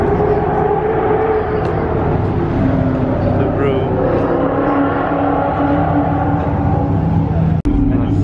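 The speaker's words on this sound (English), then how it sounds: "right now some cars are starting up and loaded" Race cars at a time-attack event idle and rev nearby, including an AMG, giving a steady engine drone with crowd noise and people talking over it, and a sharp knock near the end.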